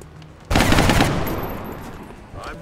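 Gunfire in the video game XCOM Long War: a sudden loud burst of rapid shots that blends into a dense roar, then trails off into a fading rumble with a smaller crack near the end.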